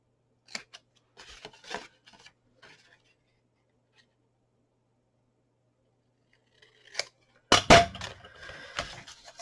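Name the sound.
scissors trimming card for a gift box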